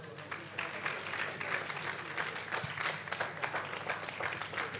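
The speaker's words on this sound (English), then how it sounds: "I would love us to do the favor of giving a round of applause" A crowd claps steadily for several seconds, a dense wash of applause at moderate volume with no voices standing out.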